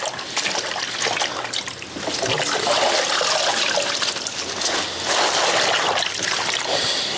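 Water runs steadily into a kitchen sink while collard greens are washed, a constant close splashing rush with no talk over it.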